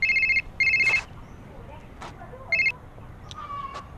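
A mobile phone rings in short electronic bursts, two close together and then a third after a pause, with brief bits of background voices and movement between the rings.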